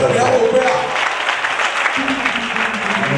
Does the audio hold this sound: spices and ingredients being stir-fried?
no